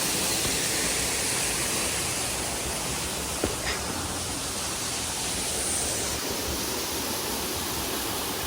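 A forest waterfall near Sohra, Meghalaya, roars in a steady, dense broadband rush from start to finish, constant and close with no pauses and no voices.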